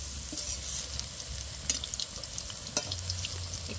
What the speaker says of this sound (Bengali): পকোড়াগুলোকে এখন উল্টে পাল্টে আমি ভেজে নিচ্ছি।